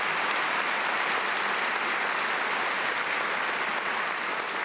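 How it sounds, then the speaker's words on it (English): A lecture-hall audience at a Supreme Court Justice lecture applauds in a dense, even wash of clapping that holds steady and loud throughout, with no talking over it. "I think he deserves a round of applause."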